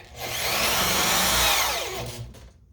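A power drill drives a screw into wood while a DIY squat rack is built: one steady, loud whir lasting about two and a half seconds, then a quick stop, with no talking.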